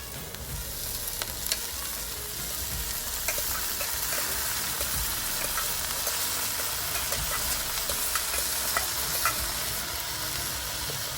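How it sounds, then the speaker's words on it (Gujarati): Green onion fries with roasted garlic in a hot pan, sizzling steadily and loudly with frequent stirring scrapes and taps, close up and with no talking. "આપણું લસણ શેકાઈ ગયું છે, એની અંદર નાખશું લીલી ડુંગળી."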